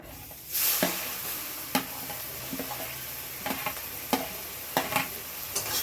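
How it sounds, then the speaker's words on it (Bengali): Chopped onions fry in hot oil with cardamom, cloves and cinnamon, giving a steady close sizzle punctuated by occasional scraping stirs and light taps against the pan. "পেঁয়াজটা হালকা লাল করে ভেজে নেব"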